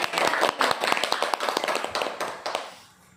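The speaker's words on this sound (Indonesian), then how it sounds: "Terima kasih, tepuk tangan." A classroom audience at a teachers' positive discipline dissemination session claps together in a short burst of quick, fairly loud clapping that thins out and fades to quiet near the end.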